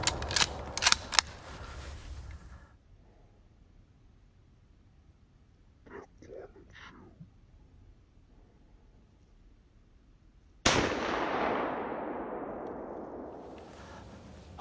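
Rifle gunshots during a Pennsylvania deer drive in rifle season: a few sharp cracks at the start, then a single loud shot near the end that rolls off in a long echo across open ground, with brief faint talk between.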